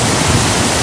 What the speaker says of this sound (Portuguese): Você pode ver que a água aqui já passa com mais força